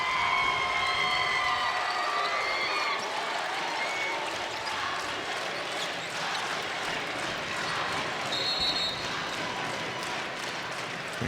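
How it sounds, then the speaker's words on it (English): West Side fans at a girls' basketball state final applaud and cheer in a sustained, dense roar of clapping and shouts, with occasional whistles, filling the arena. "Huge applause from the Westside fans as they polish off this championship."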